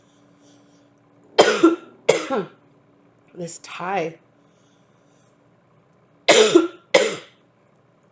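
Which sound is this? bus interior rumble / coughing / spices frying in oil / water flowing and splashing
coughing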